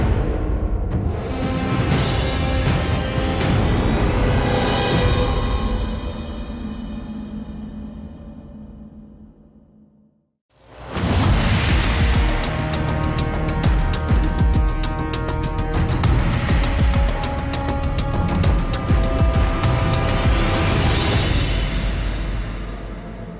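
Match start music from the video game Primal Carnage: Evolution plays loud and dense, a full orchestral-style track that fades out around ten seconds, then a second track swells back in strongly and runs to the end, with no talk.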